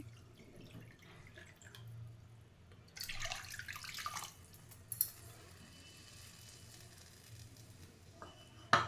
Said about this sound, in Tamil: நான் அந்த ஒரு கப்புக்கு மூணு கப் தண்ணி ஊற்றுறேன்